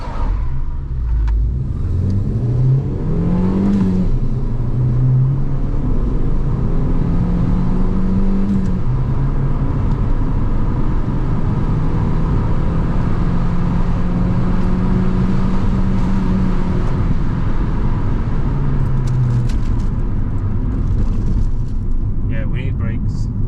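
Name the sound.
Abarth-swapped Fiat 500 car driving on the road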